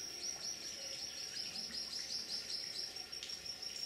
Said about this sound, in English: Sugar water feeders attracted glittering throated emeralds.